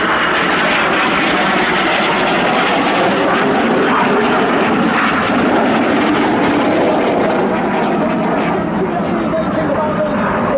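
Red Arrows jets flying a display manoeuvre at RIAT 2025, a loud continuous engine roar that fills the whole stretch, with a commentator talking over it.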